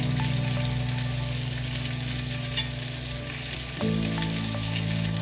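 Salmon simmering in a pan on low heat gives a steady, close sizzle with a low hum beneath, continuing without a break and with a slight shift near the end.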